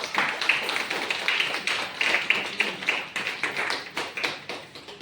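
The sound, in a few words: audience clapping loudly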